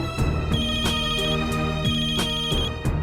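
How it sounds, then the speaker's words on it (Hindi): A phone ringtone plays alone in a tense TV drama scene, a repeating electronic melody with regular bursts, loud and close with no talk over it. "सर, फोन उठाइए।"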